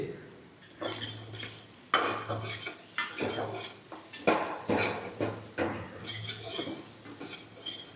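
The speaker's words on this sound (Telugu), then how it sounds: "ఆ తర్వాత దీంట్లోకి 3/4 స్పూన్ అల్లం వెల్లుల్లి పేస్ట్ అండి." Ginger garlic paste fries in a pan for street-style gobi fried rice while a spatula stirs it, giving repeated bright metallic scrapes and clinks in short bursts over a faint sizzle.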